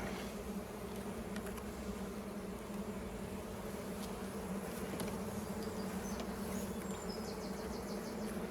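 Honey bees buzzing at an open beehive with honey supers, a continuous soft swarm drone with occasional individual bees flying past, faint and steady throughout with no talking.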